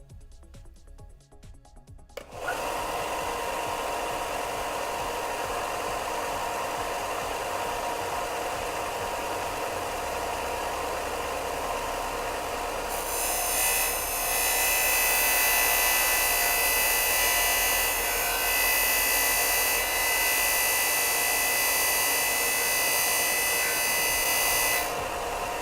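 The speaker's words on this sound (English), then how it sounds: "I'm going to use this disc sander to remove this material" A disc sander grinds material off a Sabine Wren helmet, running steadily and loudly after a brief start, with the pitch brightening and intensifying partway through as it bites harder into the surface.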